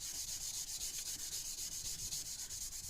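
A scouring pad rubs rhythmically back and forth over a dry wooden gunstock, making close, even scratchy strokes at a quick steady pace.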